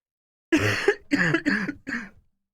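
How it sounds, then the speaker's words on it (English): Several harsh coughs in a quick run, close to the microphone, with short pauses between bursts and nothing else around them. "oh, the cough"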